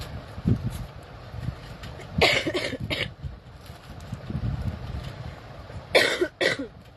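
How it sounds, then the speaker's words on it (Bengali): Two separate bursts of coughing from a person nearby, one around the middle and one near the end, over a quiet room background. "কাশিটা আমার এখনো কমেনি।"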